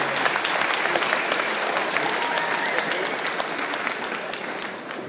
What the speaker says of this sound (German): Meine Damen und Herren, Applaus für beide Kämpfer